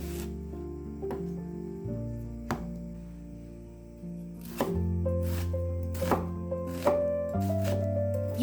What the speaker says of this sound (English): Use a sharp, wide kitchen knife for slicing.